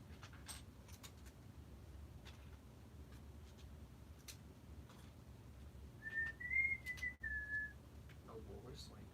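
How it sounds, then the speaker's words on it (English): Someone whistles a short, quiet tune of a few wavering notes that rise slightly and then settle, heard faintly over a soft room hum with light tapping around it. "Oh, we're whistling now."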